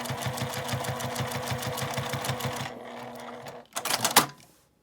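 A sewing machine stitches a quilted L-shaped zipper pouch with a rapid, even mechanical chatter up close. It stops after about three seconds, then comes a short burst of fabric handling and clunks.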